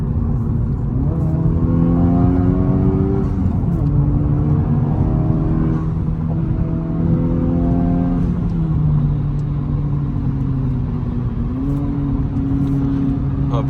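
A 2025 Honda Civic Type R FL5 driving, its engine droning steadily from inside the cabin with rising and falling pitch as it goes through gears, loud and continuous.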